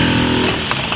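A Honda Metropolitan scooter engine revving on a touchy throttle: a loud, close, buzzing small-engine whine that rises sharply and then fades over about a second, with no talking.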